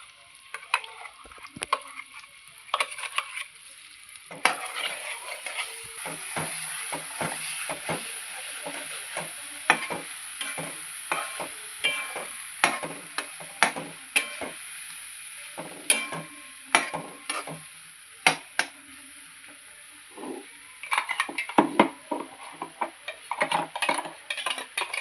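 Freshly ground masala paste hits a pan of frying brinjal and is worked with a spoon: a continuous close sizzle under repeated quick metallic scrapes and taps against the pan, busy and uneven throughout.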